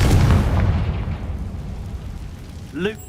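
A loud booming blast from the Confringo fire spell in the video game Hogwarts Legacy, heavy low rumble at the start decaying over several seconds, followed by a brief tonal game sound near the end.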